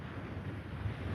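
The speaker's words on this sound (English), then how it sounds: "it's a bit windy, so I have to hold the tripod here." Steady wind buffeting a microphone on a tripod outdoors, a continuous low rumble with gusty swells throughout and no voices.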